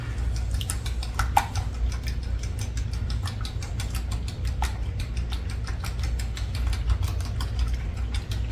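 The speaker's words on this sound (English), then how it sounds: "gonna go ahead and whisk those up" Eggs whisked with heavy cream in a bowl, a rapid, steady stream of light clicking and tapping strokes continuing throughout over a low background hum, with no talking.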